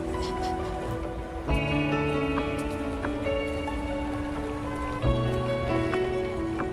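Rain and city transit sound effects layered into a song, a soft rain hiss under sustained tonal music with occasional swells and changes, continuous and moderately loud, with no talking.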